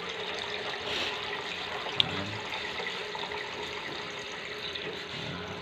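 Water runs steadily into a swimming pool pump to prime it before starting, a continuous rushing and splashing stream at close range with no talk.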